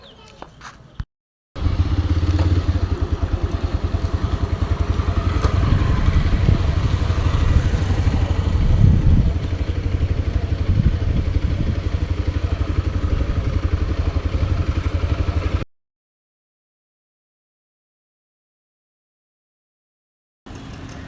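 A motorcycle rides along the road, the engine a steady, rough drone with wind rumble for about fourteen seconds before cutting off, then resuming briefly at the end.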